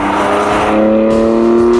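Deep, bassy exhaust growl from a BMW M4 with an M Performance exhaust, held in a loud, steady rev for about two seconds, near and without any voices.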